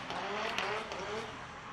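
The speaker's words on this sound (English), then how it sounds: "pops and bangs, and something definitely not right with Tomas Falvey's car there as he limps back into the pit lane" A race car with mechanical issues limps back into the pit lane at a drifting event, its engine giving a rough, uneven growl for a brief moment at moderate distance.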